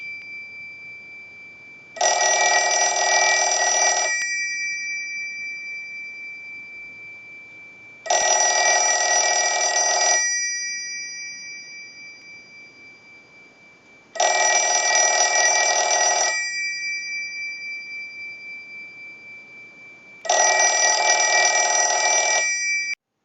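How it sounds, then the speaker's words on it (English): Old Automatic Electric rotary dial wall telephone bell ringing through a test ring cycle, four loud two-second bursts of jangling bell evenly spaced about four seconds apart, close and alone. "use the analyzer and send a ring cycle like you were getting a call"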